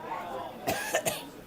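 A person at a youth football match coughs two or three times in quick succession, close and sharp against faint background noise and chatter.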